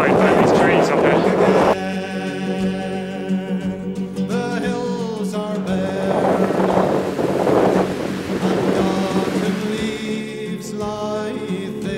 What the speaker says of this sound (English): the wind is like amplified by these trees up here